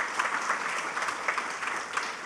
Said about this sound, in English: let's give them all their very own round of applause